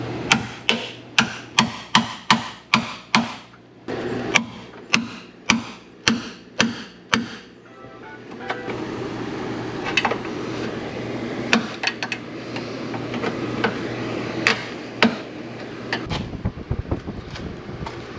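Rapid, evenly spaced metallic hammer blows ring out close by, popping spot-welded panels on a Camry, then give way to scattered, irregular knocks over a windy rumble.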